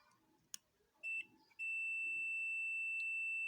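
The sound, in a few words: multimeter continuity buzzer testing refrigerator compressor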